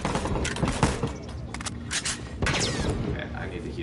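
Gunfire in The Last of Us Remastered multiplayer on PS4, several sharp shots and bursts scattered through a busy game mix, with a player talking over parts of it.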